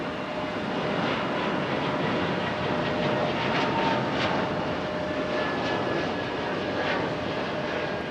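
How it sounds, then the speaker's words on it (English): JetBlue Airbus A220 airliner moving at Raleigh-Durham International Airport, its jet engines giving a loud, continuous roar heard from outdoors that stays steady and broad throughout, with no voices. "Got our beautiful JetBlue A220 on the move."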